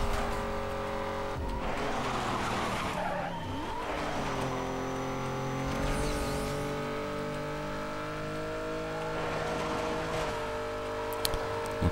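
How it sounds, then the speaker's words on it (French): A steady, continuous car engine drone in a racing video game, Need for Speed Most Wanted (2005), with strong harmonic tones throughout, shifting pitch gently as if revving, with brief screeching moments near the start. "On remarque que le bruit du moteur a changé aussi."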